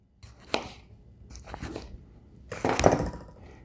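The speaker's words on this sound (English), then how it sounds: "Just slicing some tomato." Knife slicing through a rinsed tomato on a cutting board for a pizza topping: three distinct, close cuts, each a crisp crunchy chop, with the last one heaviest.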